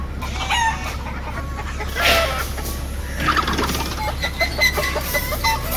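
Chickens, rooster among them, cluck and squawk in a dreamlike setting, with repeated close, loud calls and a crowing burst, busy and overlapping throughout with no talk.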